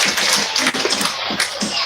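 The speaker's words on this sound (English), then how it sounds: "give them a consolation round of applause if you don't mind" Scattered clapping from a rodeo crowd at a county fair, uneven and fairly close, with individual hand claps standing out over a soft background.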